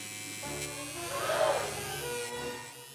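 An electric razor buzzes at low level with a steady hum. The buzz swells briefly in the middle and then settles, with no talking.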